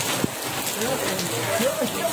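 Rain falls steadily in an outdoor setting, a continuous hiss with a few louder drop hits, while people talk over it nearby.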